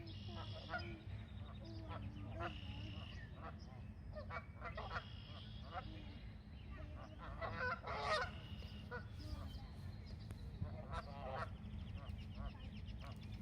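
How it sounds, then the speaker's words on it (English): Territorial geese swimming in on a nature hike give repeated honking calls, some louder bursts rising over a steady low outdoor rumble, with a voice talking underneath. "So the geese around here tend to be very territorial, and as these geese start to swim in,"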